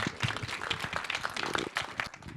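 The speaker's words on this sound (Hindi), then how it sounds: "जोरदार तालियां हो जाए।" At a film festival conversation event, an audience gives a burst of applause, many hands clapping in a dense, moderately loud patter with faint voices underneath.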